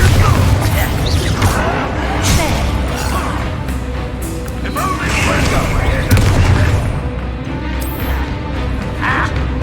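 Bombarda explosion spell in the Hogwarts Legacy video game, loud booming blasts and crashing impacts over a continuous roar of combat noise, with a person speaking at times.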